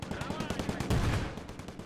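Rapid bursts of automatic gunfire in the video game Gates of Hell Ostfront, loud and close, with dense rhythmic shots throughout and a heavier blast near the middle.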